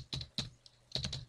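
Typing on a computer keyboard while entering a wget command on a Linux Ubuntu server: two short bursts of close, crisp key clicks separated by a brief pause, with no voice.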